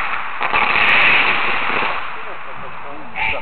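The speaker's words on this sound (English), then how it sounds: "I think they're starting up the firecrackers" A quick burst of firecrackers crackles nearby, sharp pops clustered over a hissing background, with a voice briefly heard near the end.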